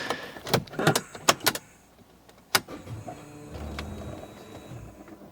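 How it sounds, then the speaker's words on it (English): Key rattling into the ignition of a Mars Red C55 at close range, several sharp metallic clicks and jingles up front, then a single clack and a soft electrical whir with faint chimes as it turns. "Let's see what happens if this thing goes in the ignition."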